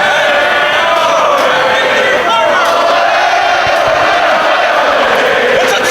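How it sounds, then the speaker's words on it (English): Wrestling crowd at an indoor independent show chanting Olé in support of El Generico, a loud, dense mass of voices rising and falling in a sustained chant throughout. "you hear the crowd chanting "Olay" to show their support for El Generico"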